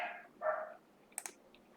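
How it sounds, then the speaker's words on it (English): A dog barks a couple of times nearby, followed by a few light clicks like keyboard taps in a quiet room. "Sorry, that's just my dog barking."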